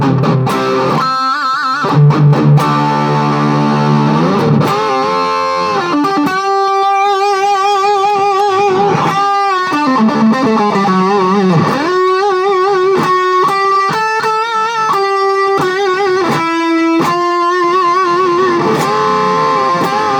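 Electric guitar played through a Wampler Triple Wreck distortion pedal in modern mode, loud and continuous with sustained chords and riffs, bright high end and no voices.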